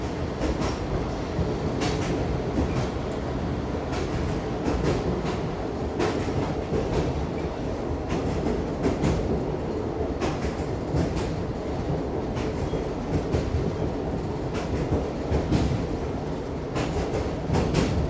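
A red Hungarian passenger train nicknamed "Uzsgyi" passes in the opposite direction at Pestimre, heard from aboard another train. Steady loud rolling rumble runs throughout, with rhythmic clickety-clack from the wheels on the rail joints.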